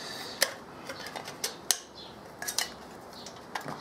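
Metal parts of a Luxeda folding wood-burning stove being handled, giving quiet, irregular clinks, taps and scrapes that come in short separate bursts against a faint, near-silent background.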